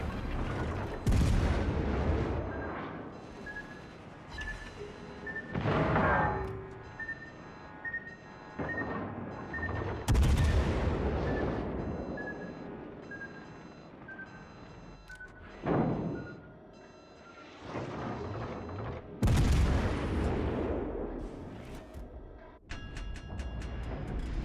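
Naval guns and explosions in the World of Warships Legends video game boom repeatedly in heavy bursts, with ringing tones and layered game effects between the blasts.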